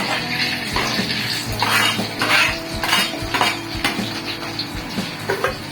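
Onion chili sauce ingredients added to hot oil in a frying pan over low heat: a spatula clatters and scrapes against the pan in irregular bursts, with a faint sizzle underneath, close and fairly loud.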